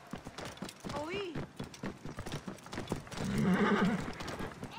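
Rhythmic hoof clops from a camel being ridden in Assassin's Creed Origins, with an animal bellow and someone speaking over the steady footfalls.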